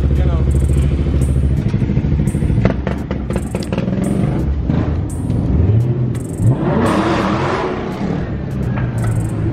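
Car engine idling and rumbling while being parked, a near, rough low running note with clattering knocks and a couple of rising revs partway through, with talk over it.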